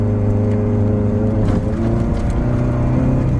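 A Honda Civic engine roars loud and close during a burnout, holding a high, strained rev with a steady whirring drone that wavers slightly midway.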